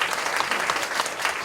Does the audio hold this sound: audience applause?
yes